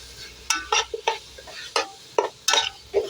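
A spoon stirs chopped tomatoes with salt into an onion masala for Malabar biryani, giving sharp scraping strokes against the pan in an irregular rhythm. The strokes are close and distinct over a faint sizzle.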